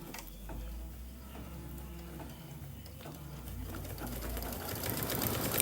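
A sewing machine quilts a Kimberbell mug rug with a steady, rapid mechanical whir and ticking stitch rhythm, close and soft, speeding up slightly toward the end with no talking.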